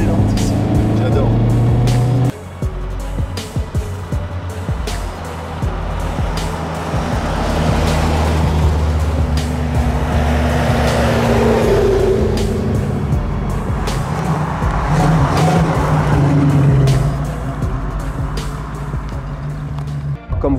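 A car with a brand-new engine revs hard nearby, its pitch rising and falling under excited talk. Road noise and clatter fill the background.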